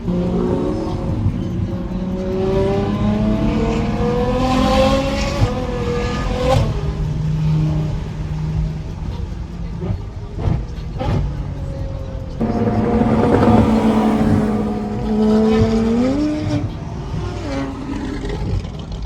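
Straight-piped V12 exotic cars rev hard on a Texas exotics rally. Loud, close engine wails sweep up and down in repeated bursts, with sharp blips between them and some voices in the background.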